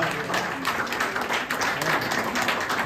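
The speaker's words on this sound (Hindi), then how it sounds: "बजा दो ताली" Audience at a Republic Day free health checkup event claps together in a dense, steady burst of applause, close and fairly loud, with a voice faintly underneath.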